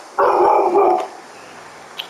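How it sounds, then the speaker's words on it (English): A dog barks loudly in a quick burst of several close barks, then the room falls nearly quiet apart from a faint blip. "What is she barking at?"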